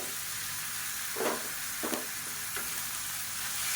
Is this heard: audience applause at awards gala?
no